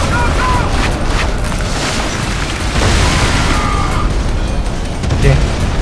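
Explosions and gunfire in the video game Crysis Warhead, a dense, loud barrage of booms and bursts running throughout, with a sharp blast near the end.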